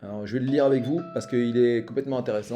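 A phone rings faintly as a steady electronic tone beneath continuous French speech, mostly masked by the talking voice.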